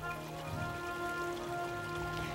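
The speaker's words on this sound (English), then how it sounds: "Shifting weather patterns brought torrential rains to the area" Heavy rain pours down in a dense, steady hiss of drops on surfaces, continuous and fairly soft, with a faint tonal hum underneath and no talk.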